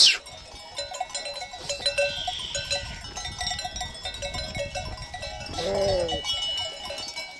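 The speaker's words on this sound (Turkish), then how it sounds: "koyun meleyip duruyor" Sheep bleat on a farm amid a cowbell's clank and rustling, with a pregnant ewe among the flock; one clear nearby bleat stands out near the end, with faint voices around.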